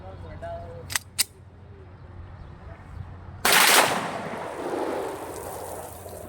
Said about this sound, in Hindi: सिंगल फायर भी किया और ब्रस्ट फायर भी किया।